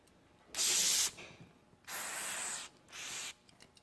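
An aerosol cleaner sprays a carburetor cover piece in three close, loud hissing bursts, each about a second long, separated by short quiet gaps.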